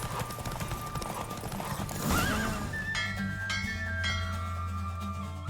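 A horse in The Witcher 3 gallops with rapid clip-clopping hooves, then lets out a loud whinny partway through, followed by bell-like chimes and game effects over a low steady background.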